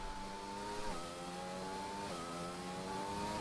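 Racing car in a Formula 1 race at Silverstone, braking into a corner: a mid-pitched engine whine drops sharply twice as the driver downshifts, then steadies, moderately loud with no voices.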